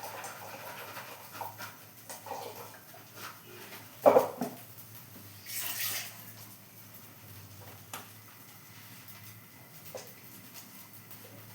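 A dog panting and whimpering close by, with soft patter and faint lapping while it is fed plain rice mixed with milk; no talk over it.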